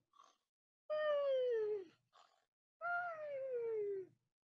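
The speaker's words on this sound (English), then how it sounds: "meow" Two drawn-out cat meows, each falling in pitch, close and clear, separated by short faint chirps and silence.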